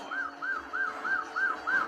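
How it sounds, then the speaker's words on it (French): A police siren in the arcade racing game Chase H.Q. wails in quick, repeating rising-and-falling cycles, steady and fairly loud with nothing else in the foreground. "on fait péter la sirène"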